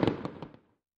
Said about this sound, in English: you could hear the fireworks going off at Rayleigh Field